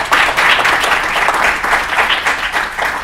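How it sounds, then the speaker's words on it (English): An audience at a cryptography talk for security professionals gives sustained applause, a steady, dense wash of many hands clapping that continues at an even level throughout. "Do a round of applause for joining"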